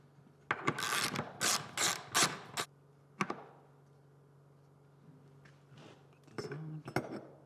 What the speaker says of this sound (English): We start by putting a nut on the back side of it.